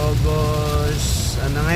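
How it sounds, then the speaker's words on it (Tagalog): Heavy morning rain in Batangas drums steadily on a vehicle while a low engine rumble runs underneath, with a voice briefly audible over the continuous downpour. "masyadong malakas yung ulan dito"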